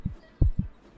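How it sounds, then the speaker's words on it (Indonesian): Heartbeat checked during a gentle doctor roleplay: three soft, low thumps arrive in an uneven lub-dub rhythm, close and muffled, with no voices over them. "Coba saya cek dulu detak jantung kamu ya."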